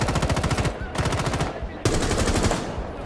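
Rapid automatic gunfire in Rainbow Six Siege, loud close bursts of fast repeating shots in three runs with brief gaps between them.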